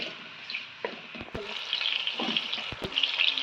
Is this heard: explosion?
no